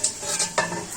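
Telugu fish curry broth (chepala pulusu) boils in an uncovered pot, a brief, steady bubbling hiss with soft popping, fairly close and alone.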